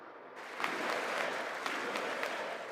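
Sustained applause fills the chamber of Congress for the President at the State of the Union address, a dense wash of many hands clapping at moderate distance without a break.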